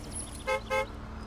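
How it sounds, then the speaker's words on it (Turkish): Two short honks of a car horn, close together, over a low idling engine rumble. "Şu kornaya bas."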